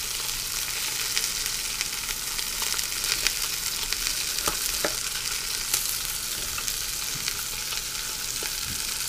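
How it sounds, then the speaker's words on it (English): Onions sautéing in an Instant Pot on the sauté setting, giving a steady close sizzle and crackle with occasional sharp pops and stirring scrapes throughout, no voices. "I'll saute the onions in what's in there"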